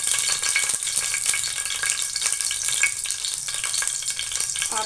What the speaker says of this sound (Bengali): আমি এতে দিয়ে দিলাম পরিমাণ মতো তেল, এবার এতে আমি দিচ্ছি একটা শুকনো লঙ্কা 2 টুকরো করে দিয়ে দিলাম